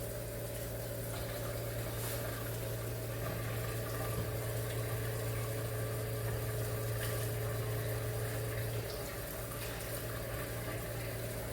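Water runs steadily into a pressure cooker, a continuous close pouring with a low steady hum underneath for the whole stretch.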